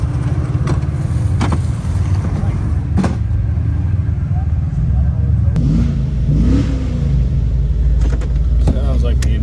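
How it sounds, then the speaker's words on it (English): A desert race truck's engine rumbles steadily and loudly throughout, with a brief rise in revs partway through and people talking over the low drone. "Sounds like the engine"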